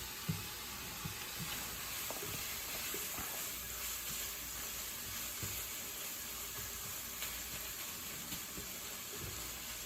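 Sausage and turkey with turkey gravy cooking together in one pan: a faint, steady sizzle and soft hiss with occasional small pops and stirring scrapes, low in level and without talk.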